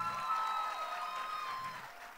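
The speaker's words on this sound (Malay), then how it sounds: "satu tepukan" An audience at a business gathering applauds the company founders: a steady wash of clapping that runs the whole stretch over a faint sustained musical tone, with no voices.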